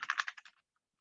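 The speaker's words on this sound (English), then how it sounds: "I'll type it in right here." Rapid keystrokes on a computer keyboard as a command is typed in, a quick burst of close, crisp clicks over about half a second that then stops into silence.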